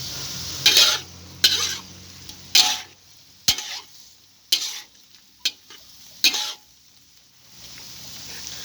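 Pork cracklings boil down in a pot of water, giving a steady low bubbling under about seven sharp scrapes and knocks of a utensil against the pot, spaced roughly a second apart.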